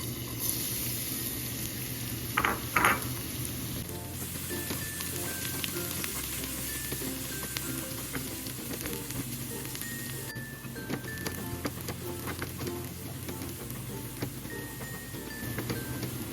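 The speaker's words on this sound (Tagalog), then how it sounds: "Lalagay lang tayo ng konting mantika. Lagay natin yung ating bawang." Minced garlic frying in a little cooking oil for pancit Malabon gives a steady, even sizzle throughout, with a few brief stirring scrapes near the start and no talking.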